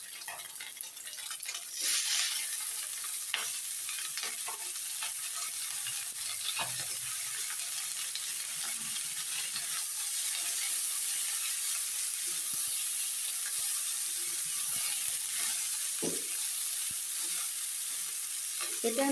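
Potatoes and onion stalks hiss and sizzle steadily in hot oil on top of fried chanda fish, a dense continuous frying noise with occasional clinks from stirring.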